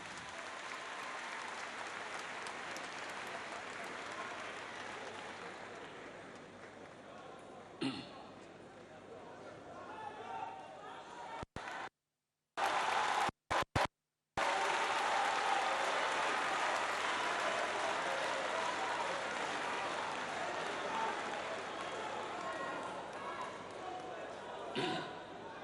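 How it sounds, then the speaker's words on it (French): Sustained audience applause from a large crowd at a tribute ceremony in Abidjan, steady and loud for most of the span, with a couple of sharp thumps and brief dropouts midway before the clapping resumes. "On les applaudit encore, s'il vous plaît."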